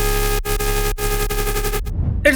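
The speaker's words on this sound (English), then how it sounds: "It's the same patch as the main lead using sine waves, distortion and compression." A distorted, compressed sine-wave synth lead for the B section of a drum and bass track plays as a loud, dense sustained tone with rhythmic stutters, then cuts off briefly before returning near the end.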